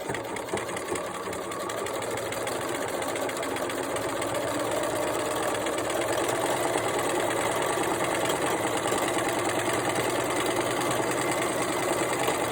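A sewing machine top-stitches a two-colour fabric mask with a continuous, even motor hum and rapid needle chatter lasting the whole stretch, close and moderately loud, with no voices.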